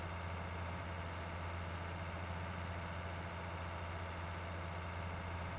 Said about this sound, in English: For now, this will be a great little yard tractor for our cows.